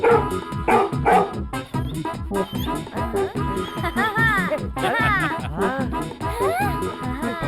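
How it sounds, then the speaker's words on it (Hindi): A dog barks and yips repeatedly in an animated comedy scene, the barks mixed with lively background music and sound effects at steady loudness. "अरे ये कुत्ता।"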